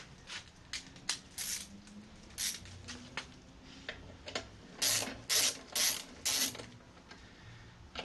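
A ratchet snugs down the rear brake bolts on a 2016 Harley-Davidson Street Glide FLHXS, producing several short bursts of rapid clicking, close by and fairly quiet, with pauses between strokes.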